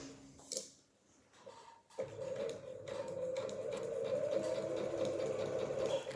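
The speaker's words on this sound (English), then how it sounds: "I'm going to stitch in that groove, so I'm going to stitch in that fold line." A sewing machine stitches a kimono seam along a fold line. After some quiet handling sounds, the machine starts up and runs in a steady, fast, close-up whir until the end.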